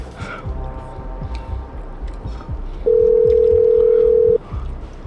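A single steady phone tone sounds for about a second and a half from an unanswered call, loud and up close over a busy indoor background.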